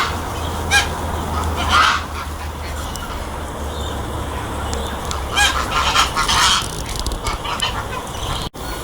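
Birds squabble and honk noisily while chasing an ibis away at Macintosh Island Park on the Gold Coast, Australia. Several loud, overlapping bursts of calls rise over constant outdoor background noise.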